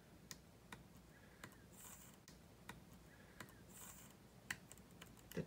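A computer keyboard clicks softly with irregular, sparse keystrokes against a faint background hiss. The sound is quiet and close, and no one speaks.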